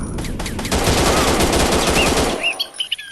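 Loud, rapid gunfire from the Counter Terrorist Shoot video game pours out in a dense automatic burst for over two seconds, then breaks into a few sharper separate shots at the end.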